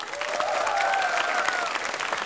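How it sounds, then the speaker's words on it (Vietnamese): A studio audience at a televised talent show results night applauds to welcome the judges, with dense, sustained clapping and some crowd noise that holds steady throughout. "hãy cùng dành một tràng pháo tay để chào đón họ"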